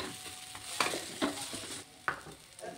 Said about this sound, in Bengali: 1 চামচ লঙ্কা গুঁড়ো, 1 চামচ জিরে গুঁড়ো আর 1 চামচ হলুদ গুঁড়ো। সব কিছুকে আবার ভালো করে কষে নিতে হবে।